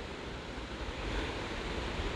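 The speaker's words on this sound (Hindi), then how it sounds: "लहरें उठ रही है हर बीच की तरह" Ocean surf rolls in steadily on Agonda Beach in South Goa, a broad, continuous wash of breaking waves that swells slightly louder midway, with no voices, only wind-like roar.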